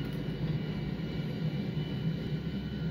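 Aircraft taking off in GTA 5 Online, a small fast plane: a steady, loud engine roar with a low rumbling drone that holds continuously throughout, with no voices.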